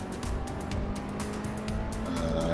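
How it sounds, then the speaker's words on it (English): Race cars in the Assetto Corsa racing video game drone steadily with engine noise and tire squeal while cornering, a continuous close mechanical roar with faint higher whine throughout. "If when I go around a corner, I get the sliding noise, does that mean I took the corner too fast?"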